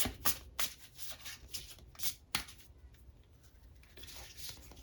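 Lenormand fortune-telling cards being shuffled by hand, a run of quick riffling and flicking bursts with soft papery slaps, fairly close and quiet, alone.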